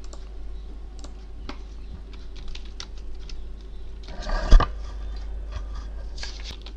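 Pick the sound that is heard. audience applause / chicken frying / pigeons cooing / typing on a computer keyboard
typing on a computer keyboard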